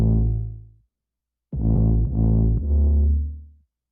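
Deep bass sample processed with compression, clipping and limiting, heard as two loud, heavy low phrases separated by a short gap of silence.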